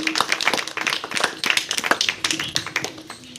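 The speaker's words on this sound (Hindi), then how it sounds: "तालियां जरूर बनाएं आप लोग अपने लिए" Audience claps at a ceramics training launch event in India, a small group producing uneven, fairly close hand claps for several seconds with no talking over it.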